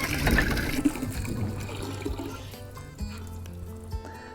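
Water from a pump pours and trickles into a rainwater harvesting tank, a steady close splashing that thins into lighter dribbling and drips, with a low hum underneath.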